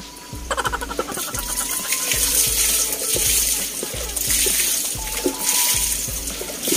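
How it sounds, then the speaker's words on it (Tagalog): Water is poured into a pigeons' drinker, a splashing, trickling stream with a few soft thuds and faint bird calls nearby. "Lagay lang tayo ng tubig ngayon."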